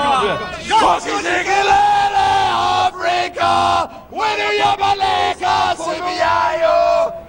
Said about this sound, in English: come on, let's see an Indian cheer and see a South African cheer